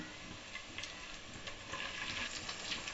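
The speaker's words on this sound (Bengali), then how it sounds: "আমি এখানে ম্যারিনেট করা চিংড়ি মাছ আর চিকেন দিয়ে দিচ্ছি" Marinated shrimp and chicken fry in a pan with lightly fried aromatics for Chinese-style noodles, producing a soft, continuous sizzle with faint stirring scrapes, fairly quiet overall.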